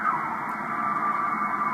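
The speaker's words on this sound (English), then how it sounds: "There's teletype." A steady radioteletype tone over shortwave static on the 24 MHz band, a sustained warbling digital signal with hiss around it, faint and continuous.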